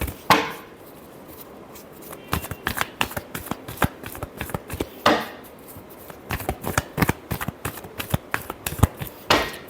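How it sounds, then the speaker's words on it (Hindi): Tarot cards being shuffled by hand in a long run of crisp riffling bursts, with sharp clustered flicks and a few pauses between passes, close up and without speech. "last shuffle"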